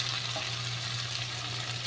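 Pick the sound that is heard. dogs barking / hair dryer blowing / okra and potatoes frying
okra and potatoes frying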